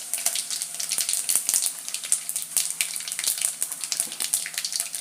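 Mustard seeds and dried red chillies crackle and sizzle in hot oil, a busy stream of sharp pops and spatters over a steady frying hiss, close and fairly loud.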